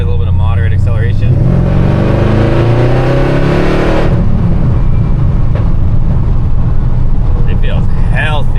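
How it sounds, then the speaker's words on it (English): A modified Dodge Dakota pickup truck's engine pulls through moderate acceleration, its note climbing steadily for about four seconds before easing off into a rougher idle-like rumble, loud and close throughout with a voice briefly heard at the start and end. "I'll show you guys a little bit of moderate acceleration"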